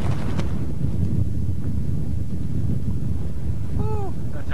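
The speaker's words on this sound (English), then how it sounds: "it's a blustery day" Strong gusty wind roars and buffets the microphone throughout, a steady low rumble with a few faint voices briefly audible near the end.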